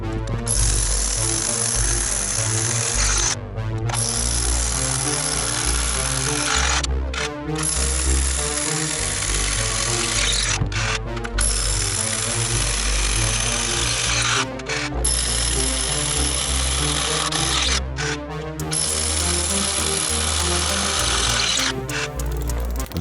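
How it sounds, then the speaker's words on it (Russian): A power drill with a 500 mm bit bores vertical holes into a concrete foundation, running in long loud bursts of several seconds, each separated by short pauses. "Через каждые полметра просверлил вертикальное отверстие. Длина сверла 500 мм."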